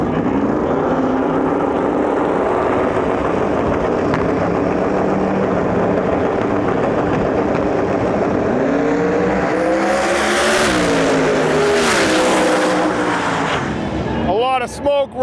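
A twin-turbo Fox body Mustang races a GT350 Mustang in drag racing eliminations at Lights Out 16, engines roaring loudly with a surging, rising pass near the end while an announcer talks over it.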